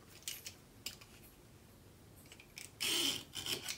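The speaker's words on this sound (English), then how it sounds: "Apply your straight edge to where you're going to cut and cut a straight line." Blade drawn along a straight edge cutting book binding tape, a few faint scrapes and taps, then one louder rasping cut near the end, close and quiet.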